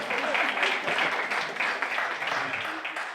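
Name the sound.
audience applause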